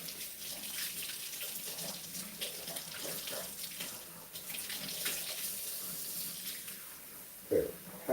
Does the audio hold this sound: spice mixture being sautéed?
no